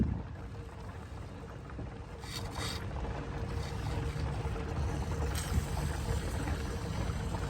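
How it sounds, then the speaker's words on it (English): Continuous low rumbling bubbling and churning from coolant boiling in an overheated Range Rover engine with a leaky radiator, a steady turbulent wash that swells slightly louder toward the end, with a faint hiss above. "Really bubbling inside."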